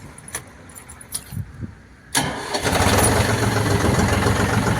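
A DEUTZ-FAHR Agrolux 50 Turbo Pro tractor: keys jangle softly, then the diesel engine cranks and fires abruptly, settling into a loud, steady close-up idle.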